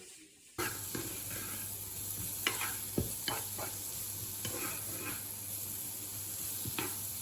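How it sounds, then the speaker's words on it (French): Leeks and shallots sauté gently in a pan, starting after a brief quiet moment with a soft steady sizzle and scattered light scrapes and taps of a utensil, no speech. "Et puis les petits poireaux que j'avais, je vais les faire revenir doucement."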